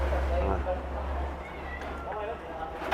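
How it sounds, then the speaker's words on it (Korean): A stray cat meows a few times nearby, outdoors beside a car being serviced for its engine oil, the short cries mixed with someone talking. "이젠 길고양이가 와서 나를 방해를 해."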